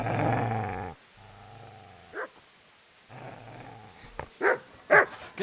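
Dog in the medieval game Kingdom Come: Deliverance growls low and steady, pauses, growls again, then breaks into several loud, sharp barks near the end, close and alone.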